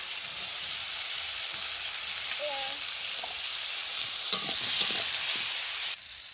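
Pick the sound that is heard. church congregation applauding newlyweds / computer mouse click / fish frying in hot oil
fish frying in hot oil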